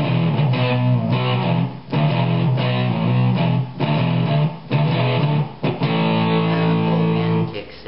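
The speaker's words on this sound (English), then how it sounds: "so they start off with a slightly distorted or overdriven setting" An electric guitar with a slightly distorted, overdriven tone plays a rock riff, loud and close, in steady chugging phrases with short pauses and no voices over it.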